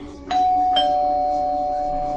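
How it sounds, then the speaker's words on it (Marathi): A two-note electronic doorbell chimes once, the second tone ringing on and fading slowly, close and clear over a quiet room. "तितक्यात दाराची बेल वाजली."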